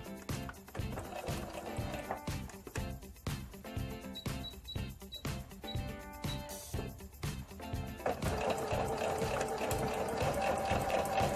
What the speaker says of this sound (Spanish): Coloco la aguja en posición y vamos cosiendo a todo alrededor.